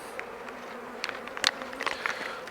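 Honeybees buzz inside a three-frame nuc in a steady low hum, with short sharper flybys of individual bees rising close by at irregular moments.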